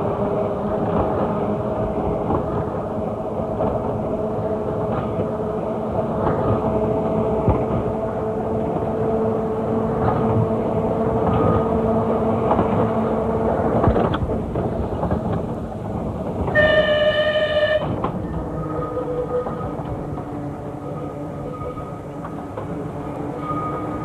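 Riding aboard a tram on a sunny afternoon: a steady, close rumble of the car rolling along the rails, with a brief tonal horn or bell sounding partway through before the running noise carries on.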